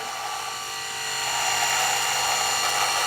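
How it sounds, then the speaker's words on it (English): A VYLTO 7D electric trimmer buzzes steadily and close up as it cuts through a thick beard, the motor tone rising slightly in load midway and staying continuous without talk. "if I'm going to shave my beard, I'm going to use the trimmer. So let's just go ahead and get this trimmer rocking here."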